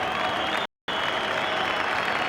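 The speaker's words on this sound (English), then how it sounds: "the applause is for Mullen as much as for Brotherston coming on" Crowd applause fills a football ground at a Northern Ireland versus England match as one player goes off and another comes on, a dense, steady roar of clapping from a large crowd, broken by one brief gap.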